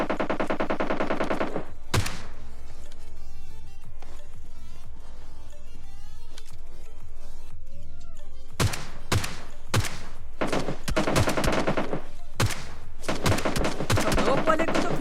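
Gunfire in PUBG Lite, a mobile battle royale shooter: loud bursts of rapid automatic fire at the start and again near the end, with single sharp shots scattered through a quieter middle stretch.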